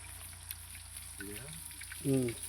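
Fish fries in hot oil in a home kitchen, a steady soft sizzle running throughout, with voices talking briefly over it.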